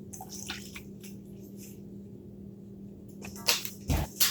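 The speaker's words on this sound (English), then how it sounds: "The water is starting to boil over here" Water in a pot on the stove starts to boil, giving faint bubbling and dripping pops over a low hum, with a few sharper splashy bursts toward the end.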